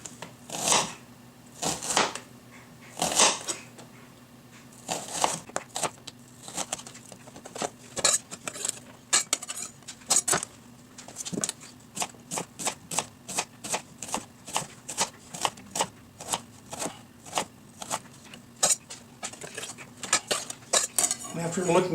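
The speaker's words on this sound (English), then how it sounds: "I'm going with a fairly thin slice of the onion." A knife thinly slices an onion on a cutting board for a tomato and onion salad, giving rapid, light repeated taps and clicks at close range in an uneven rhythm, with no talking.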